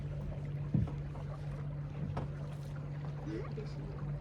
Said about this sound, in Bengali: বোট চালাচ্ছে দেখতে পাচ্ছেন